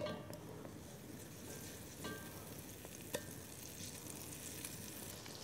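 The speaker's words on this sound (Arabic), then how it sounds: "نخلي كمان الزبدة تحترق شوي صغيرة ما كتير" Butter sizzling and browning in a pan for Arabic halloub, a steady close frying hiss with a few small crackles and faint clinks, no voices.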